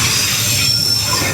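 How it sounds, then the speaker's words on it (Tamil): A train rolls past very close by on a track running beside a Vietnamese street café, its wheels squealing steadily against the rails in a loud, continuous metallic screech with a low rumble beneath. "இங்கே பாருங்கள் ட்ரெயின் போயிட்டுருக்கு."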